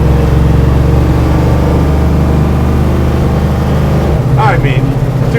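A HEMI V8 in a 1968 Dodge Charger built for Bonneville land speed runs loud and close in first gear with a deep, steady, throbbing drone, and a voice speaks briefly near the end.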